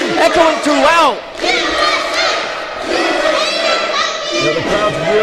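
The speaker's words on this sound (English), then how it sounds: "You can hear the echoes of USA echoing throughout." A wrestling crowd at a lucha libre show in Hanford chants and shouts loudly and continuously, the voices rising and falling in repeated cheering bursts.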